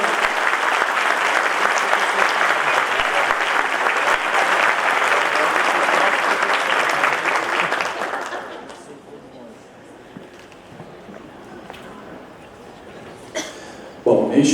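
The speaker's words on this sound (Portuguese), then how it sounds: "E eu peço um aplauso para todos e todos os professores presentes pelo seu dia." Audience applause for teachers at the opening of a conference, loud and dense for about eight seconds, then dropping off to a quiet murmuring room with a few scattered claps near the end.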